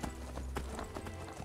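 Horse hooves clip-clop in a steady rhythm in Skyrim's Falskaar mod, close and continuous over a constant low background.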